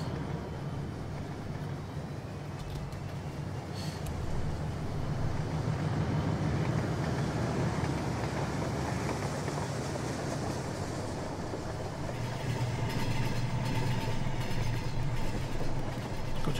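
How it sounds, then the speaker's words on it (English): A model train rolls past Earlestown Junction in the Rolling Line railway game, a steady broad rumble that holds at even loudness throughout with no one talking. "oh, there's a train coming. I'll wait till that passes."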